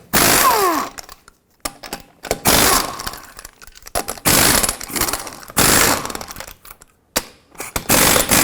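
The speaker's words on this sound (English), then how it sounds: "With a 21mm socket, remove all 5 of your lug nuts and then remove the wheel." Lug nuts coming off a 1997-2003 Ford F-150 wheel with a 21mm socket on an impact tool: several loud, bursty ratcheting runs separated by short pauses, harsh and metallic, with no talking.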